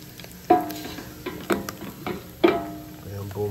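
Ground meat frying in plenty of fat in a pan for a Bolognese sauce, a soft continuous sizzle broken by several sharp scraping and stirring knocks at irregular intervals.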